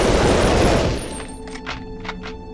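Gunfire in Medal of Honor: Underground: a loud, rapid burst of automatic shots for about a second, then a few sharp scattered reports and echoing impacts in a quieter game ambience.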